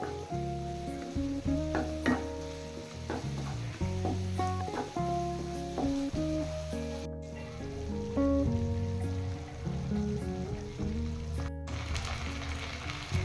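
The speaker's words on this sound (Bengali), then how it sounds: "এবার রসুন বাটা পেঁয়াজের সাথে 2 মিনিট ভেজে নেব।" Garlic paste and onion frying together in a pan, a steady moderate sizzle with scattered pops and crackles, backed by a tonal musical bed throughout.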